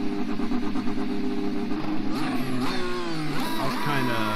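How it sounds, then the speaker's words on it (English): An open-wheel race car engine in iRacing drones and revs. Its pitch climbs and drops sharply through quick shifts and throttle changes, loud and close, with faint talk over it. "we don't have all that engine noise in the background"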